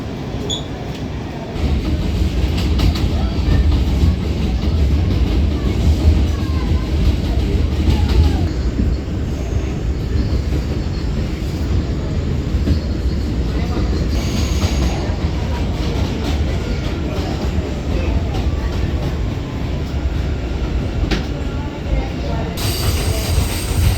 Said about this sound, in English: That's another incoming train on the opposite end of the platform.